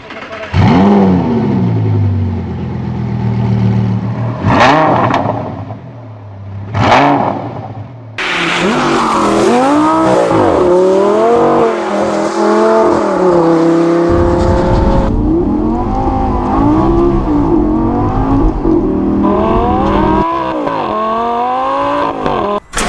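A Lamborghini Gallardo's 5.2-litre V10 engine revs sharply twice, then roars through repeated rising and falling revs, loud and close with brief pauses between bursts.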